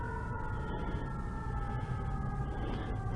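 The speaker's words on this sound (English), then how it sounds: "Oh, now there's a siren. There's a siren now." A fire truck siren sounds at a distance as a steady, sustained tone, heard through continuous low vehicle and road noise.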